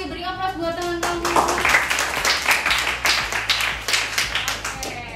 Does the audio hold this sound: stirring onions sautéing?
no